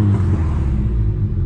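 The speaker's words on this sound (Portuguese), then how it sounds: "eu segurei a embreagem, vou acelerar o carro" A car engine held at high revs with the clutch pressed before a launch start, a loud, close, steady droning roar with a slight wavering pulse.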